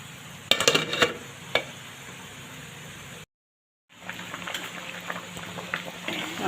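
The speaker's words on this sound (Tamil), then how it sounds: "குழம்பு நல்லா கொதிக்குது" Dried fish curry with pirandai boiling in a pot, a soft continuous bubbling hiss with a few clinks of a utensil against the pan early on, a brief dropout, then steady bubbling again.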